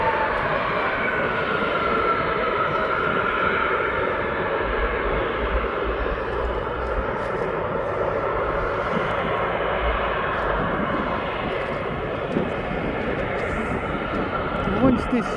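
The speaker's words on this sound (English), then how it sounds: "this Jet2 to Ibiza is on his way out." Jet2 jet airliner taxiing out at East Midlands Airport, a steady, moderately loud engine drone and whine throughout, with talk over it.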